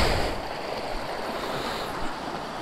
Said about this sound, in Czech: A to je krása, tady potůček pěkně.